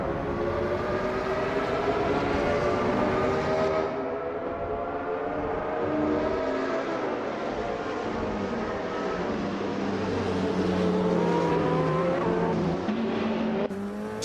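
Race cars in a racing video game roar off the start together, a loud, steady blend of high revving engines rising and shifting in pitch over about fourteen seconds with no talk.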